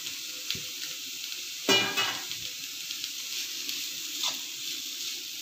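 Shredded cabbage sautés in a pan for veg spring rolls, a soft continuous sizzle with a louder scraping stir near the middle and a few lighter stirring clinks later.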